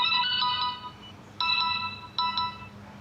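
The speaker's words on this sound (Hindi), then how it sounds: "माँ का फोन है, उठाओ।" Mobile phone ringtone ringing in bursts: a bright electronic melody that plays, pauses, then sounds twice more in shorter repeated phrases over a quiet room.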